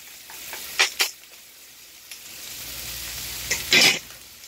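Ground turkey and bell peppers stir-fried in a hot pan: a continuous sizzle broken by a few sharp bursts of scraping and stirring, the loudest near the end.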